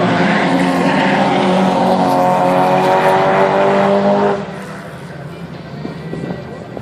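Rallycross race cars roaring along a dirt section of the track, a loud sustained engine drone that drops away after about four seconds as they pass into the distance.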